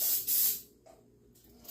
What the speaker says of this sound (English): So I'm just spraying it with some cooking spray.